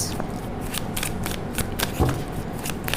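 Tarot cards are shuffled in rapid, crisp riffling bursts close by, a steady run of papery flicks with no talking.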